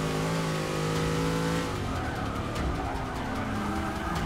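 A race car engine in the video game Forza Motorsport 6 holds a high steady whine, then tires skid and scrub as it brakes hard, the engine dropping into rough lower revs.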